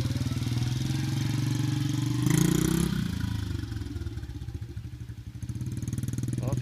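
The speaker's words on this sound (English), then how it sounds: "Off he goes for another fine day of motorcycle riding." A motorcycle engine idles with a steady, throbbing, clattering rumble close by, then rises briefly in revs and settles back into a pulsing note as the bike pulls away.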